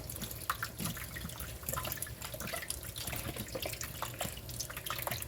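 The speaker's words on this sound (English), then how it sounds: "now we're gonna wash the bell peppers" Tap water runs and splashes steadily at close range while bell peppers are washed with salt in a kitchen sink, a continuous gurgling flow dotted with small drips, with no voices.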